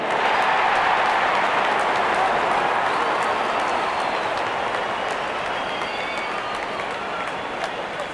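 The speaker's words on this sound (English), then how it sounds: "There's such a wonderful crowd in to watch their favorite players." A stadium crowd roars and applauds in a cricket video game, a broad continuous wash of clapping and cheering that slowly fades slightly, with commentary faintly underneath.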